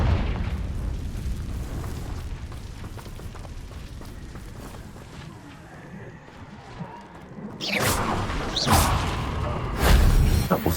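Explosions from the Confringo blasting spell in the video game Hogwarts Legacy: a rumbling, crackling barrage fades mid-way, then several sharp loud bursts and booms hit close together near the end, with no voices.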